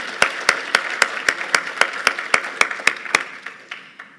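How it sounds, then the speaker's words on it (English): Audience applause at a MoneyShow University welcome session, heard as a string of about fifteen sharp, evenly spaced claps that ring out clearly, then thin and fade toward the end. "Round of applause for Jordan."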